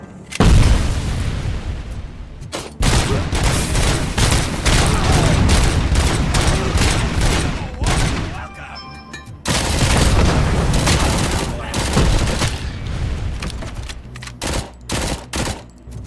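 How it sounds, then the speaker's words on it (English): In a video game, a grenade explosion booms amid dense, sustained automatic gunfire, loud and close, with rapid bursts continuing through most of the stretch and briefer shots near the end. "Grenade!"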